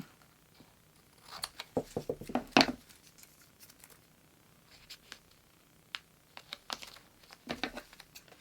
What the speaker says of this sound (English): now I'm going to cut this off a little bit